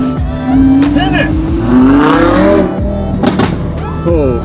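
Audi R8 V10 engine revving hard on a street at the Caesars Forum Shops in Las Vegas, rising and falling howls with tire chirps, loud and close, with people talking and cheering over it.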